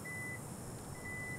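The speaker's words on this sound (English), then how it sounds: "So all you have to do is walk behind the car. It'll beep a few times." Two short, thin electronic beeps from a 2019 Kia Stinger GT2 before its trunk automatically opens, with a pause between them, over quiet background hiss.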